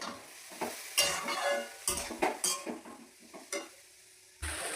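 A paste of ginger, cumin, a little mustard and turmeric is stirred in a hot pan with green chillies. Quiet scraping strokes and soft sizzling come in irregular bursts, with no voices.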